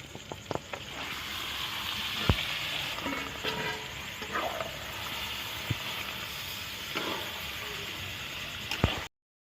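Chicken pieces hit hot oil and spice paste in a pan, raising a loud, steady sizzling hiss close up, with a few clanks and knocks breaking through the frying.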